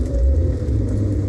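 A Nissan Sentra GXi VVL with an SR20VE engine drives in fourth gear, giving a loud, steady low engine rumble and road drone heard up close and continuous throughout.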